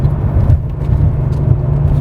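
A Porsche 911 Carrera 2 (964) engine drones steadily while driving, a loud, low, even rumble heard from inside the car with no talking.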